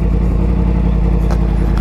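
A motorcycle engine rumbles steadily close by, a low continuous drone with a faint mechanical clatter as the bike arrives, with no talking.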